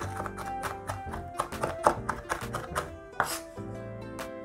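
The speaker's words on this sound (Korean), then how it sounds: "너무 굵지 않게, 그렇다고 너무 곱지도 않게 이렇게 파를 썰어 볼게요" A knife cuts green onions on a cutting board, neither too thick nor too fine, with a rapid run of close, crisp chops that thud against the board.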